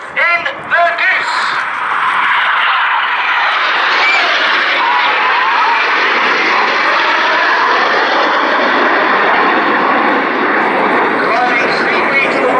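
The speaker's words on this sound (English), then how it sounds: "Now look to the left, here comes a lone jet." A lone jet, Red 9, sweeps past at the Shuttleworth Edwardian pageant airshow, its engine roar swelling quickly and holding as a loud, sustained rush after a brief opening of background commotion.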